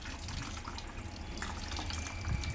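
A steady hiss of water pouring and splattering onto a mobile phone nearby, continuous with small drips, no voices.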